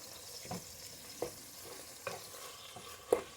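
White turkey chili with beans cooking in a skillet, a faint simmer broken by a few soft scraping stirs at uneven intervals.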